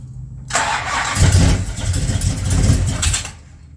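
A Roadrunner car engine cranks briefly, then catches and fires into a loud, rough run that surges twice before dropping off abruptly, close by with no talking.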